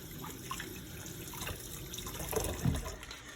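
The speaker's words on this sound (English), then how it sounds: "Push it around and rinse." Water swishing and rinsing over a dirty respirator harness in a sink, soft trickling and splashing close by, faint and uneven, with no talking.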